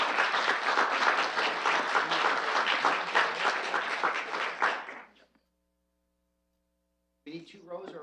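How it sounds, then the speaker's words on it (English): Loud, full applause from the crowd at a city council meeting's awards presentation, dense clapping that fades out into near silence before some talk resumes at the end. "So let's give everyone a final round of applause"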